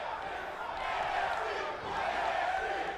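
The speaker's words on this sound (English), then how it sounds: "This crowd is coming alive for the main event" A virtual arena crowd in the wrestling game WWE 2K18 roars steadily during an NXT main event, a broad continuous wash of cheering that swells slightly in the second half.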